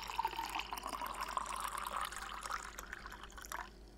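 Water running into a kettle in a coffee-shop simulation game, a steady trickling pour that builds for several seconds and then stops abruptly near the end, with no talking.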